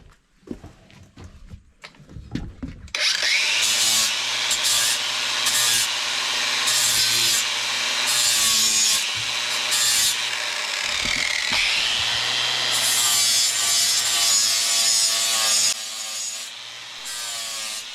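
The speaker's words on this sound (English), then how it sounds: "Wouldn't use an angle grinder to sand the top deck." An angle grinder sands the old finish off the wooden top deck of a classic sailboat. A few seconds of knocks and handling give way to a loud, steady, close whine and grinding rasp.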